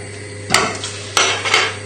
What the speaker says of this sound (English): And hopefully as you're mashing, the butter will melt.